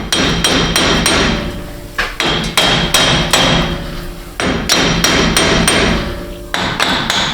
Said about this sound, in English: left-handed hammer action